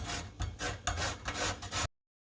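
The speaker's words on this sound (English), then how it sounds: "So we'll grate the lemon" A whole lemon rubbed over a grater for zest, making close, loud rasping strokes in a quick uneven rhythm before the sound cuts off abruptly.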